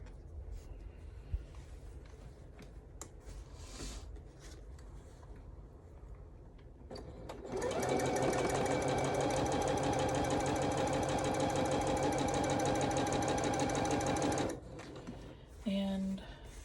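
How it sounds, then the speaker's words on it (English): A sewing machine stitches quilting fabric pieces corner to corner for a table runner. Quiet handling and rustling come first, then a steady, loud mechanical whir runs for about seven seconds and stops abruptly. "And then I'm gonna sew corner to corner."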